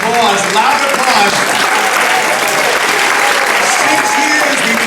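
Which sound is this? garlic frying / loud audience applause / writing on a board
loud audience applause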